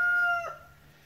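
Rooster crowing on a ranch, one loud, close call with a steady tonal pitch that rises briefly and then fades, standing alone without talk.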